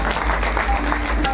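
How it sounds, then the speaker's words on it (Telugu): Audience in a gathering at an ashram breaking into brief applause, a dense burst of many hands clapping at once, steady and fairly loud for about a second. "ఒకసారి గట్టిగా చప్పట్లు మనం కొట్టుకుందాం"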